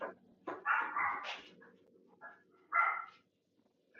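A dog gives a few scattered yips and barks, faint and somewhat distant, with short pauses between bursts and no voices.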